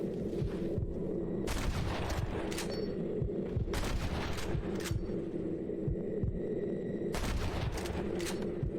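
Gunfire in the Red Dead Redemption video game, bursts of sharp rapid shots in several volleys over a low throbbing hum.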